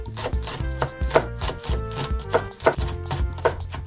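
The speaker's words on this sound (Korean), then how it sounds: "대파 한 토막을 잘게 다져주세요." A kitchen knife finely chops a piece of green onion (scallion) on a cutting board, a close, steady series of crisp taps in an uneven rhythm, about a dozen strikes with no talking.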